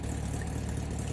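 A car engine idles in the video game The Long Drive, a steady low rumble with an even, throbbing pulse that fills the short stretch without breaks.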